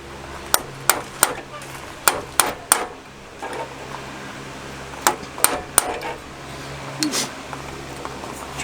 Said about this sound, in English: I've got a 1/4 inch punch here. We'll try and drive this pin through.